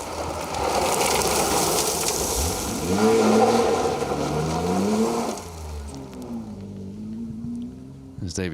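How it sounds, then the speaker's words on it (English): BMW E30 rally car accelerating along a rally stage, its engine note climbing through gears at moderate distance while a commentator talks over it, then fading away. "There's David Jones and Glenn Price in their E30 BMW."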